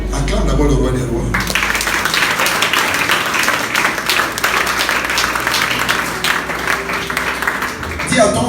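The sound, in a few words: congregation applauding in church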